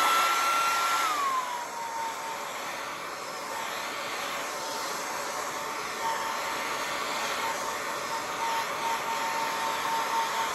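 A heat tool blows hot air over a Froot Loops cereal candle, giving a steady close whoosh that holds for the whole stretch, with a slight pitch drop near the start as it settles.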